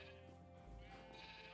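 Sheep bleat in a pixel art video game, one drawn-out electronic-sounding bleat with steady tonal harmonics, loud and close, no voices over it.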